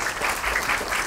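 Audience applause fills a hall at an academic educational technology conference, a steady dense wash of many hands clapping at once, close and continuous with no voices over it.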